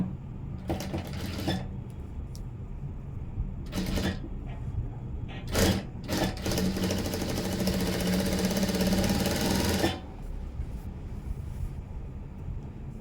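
A sewing machine stitches over a twisted blouse knot rope. It runs in several short whirring bursts, then one long steady stretch of rapid mechanical stitching, close and fairly loud over a low background hum.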